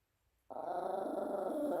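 A dog growls continuously at close range, a low steady rumble that starts abruptly and holds without a break, with no talking over it.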